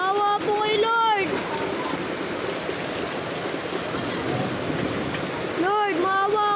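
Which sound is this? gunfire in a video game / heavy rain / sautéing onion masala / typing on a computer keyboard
heavy rain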